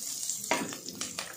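Onions frying in a pan make a close, quiet sizzle with a few quick stirring scrapes, alone and without talk.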